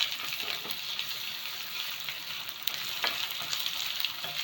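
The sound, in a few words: cashews and asafoetida frying in oil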